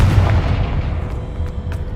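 A Confringo blasting curse explodes in the Hogwarts Legacy video game, a dense, loud rumbling boom that rolls on for the whole moment with a few sharper crackles near the end.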